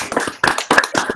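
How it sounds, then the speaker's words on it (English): A small audience claps at the close of a scientific seminar, sparse and uneven, in a few short bursts with clear gaps between them. "we give a final applause to Kika, and thank you very much again."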